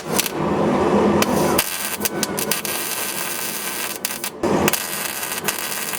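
Short bursts of tack welding on a Nissan Sentra exhaust pipe crackle loudly and close, with a few sharp breaks and clicks between the welds.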